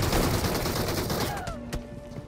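Shotgun blasts in a battle royale game, a rapid cluster of loud, close, booming shots fired in quick succession, then a short ringing tail as the sound fades.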